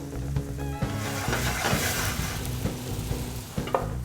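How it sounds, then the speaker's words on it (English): Olive oil and a bay leaf sizzle in a hot pan, a steady close frying hiss with some stirring movement running through the whole short stretch. "We got a hot pan. We got some olive oil in the pan."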